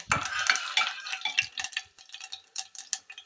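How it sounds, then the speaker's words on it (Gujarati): Fennel seeds temper in hot ghee, a close crackling sizzle mixed with scraping stirring sounds that rise in bursts and thin into sparse pops toward the end. "ઘી થઈ ગયું છે ગરમ એટલે વરિયાળી વઘાર આપણે કરીશું"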